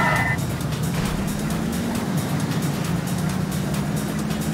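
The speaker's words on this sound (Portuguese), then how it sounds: "Meu carro tá andando muito, hein?" Taxi cab racing fast in the PS2 game Midnight Club, a steady loud engine drone with a rising pitch, continuous and close throughout, with no talking.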